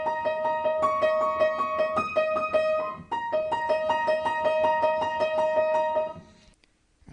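A piano plays a song's melody with clear sustained notes and chords in a steady rhythm, up close, then the sound fades out near the end.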